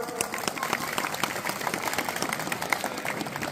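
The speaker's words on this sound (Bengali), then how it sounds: "এবার হাততালি সবাই জোরে," An audience at the Gobindapur Chhau dance fair claps steadily in a dense, continuous patter of many hands, moderately loud and sustained throughout.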